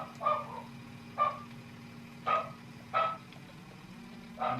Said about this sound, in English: And as you can see, you can hear my dogs barking in the background.